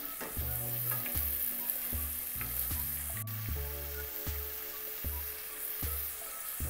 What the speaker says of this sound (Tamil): இந்த பேஸ்ட்டு நல்லா கொதிக்கட்டும்